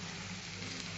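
Pumpkin frying with spices in a pan for a Bengali kumro chingri dish makes a steady, even sizzle that holds at a constant level for the whole clip, with no voice over it.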